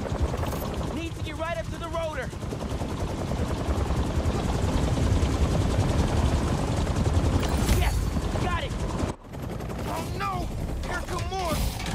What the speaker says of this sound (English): Oh, chopper! Helicopter's blades.